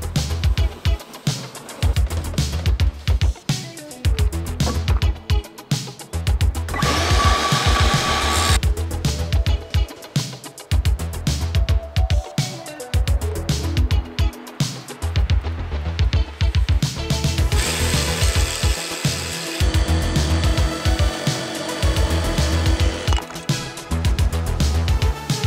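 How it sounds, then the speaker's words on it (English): A power tool cuts out a section of wall inside a camper van, making a loud, continuous whirring and buzzing that runs almost without a break. Its pitch and intensity shift as the cut progresses. "scribe this wall and then cut out around there"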